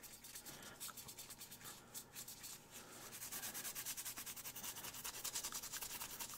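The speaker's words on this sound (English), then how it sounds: "Just giving this a little bit of a scuff to kind of help the adhesion." Quiet, steady rubbing as someone scuffs the surface of a small 1:64 scale 3D printed race car transporter model by hand, the strokes growing slightly denser toward the end.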